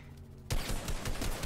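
Gunfire from the video game Fortnite starts abruptly after a brief quiet moment, then continues as a loud, rapid burst of repeated shots.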